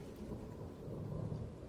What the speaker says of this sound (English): I'm tired of being in the rain, though.